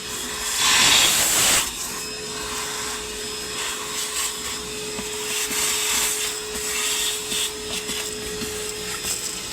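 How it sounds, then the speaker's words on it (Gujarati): A vacuum cleaner sucking up soybean debris inside a car gives a steady droning whine with a steady high tone. A louder rushing burst comes near the start, then a sustained hum with small shifts as the nozzle moves. "હાલો ભાઈ વેક્યુમ મારીએ છીએ ગાડીમાં"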